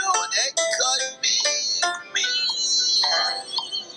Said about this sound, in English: Oh, my little Stephanie, somebody's calling for you. You better answer the phone